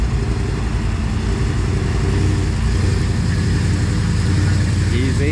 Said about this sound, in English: Okay, we got a Bronco coming through.